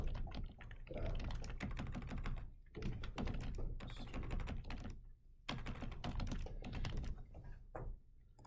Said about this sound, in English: I don't think people want to see me chewing and typing.